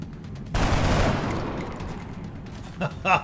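Gunfire from a targeted shot in XCOM: Enemy Within with the Long War mod: a loud sustained burst that decays slowly, followed by two short sharp cracks near the end.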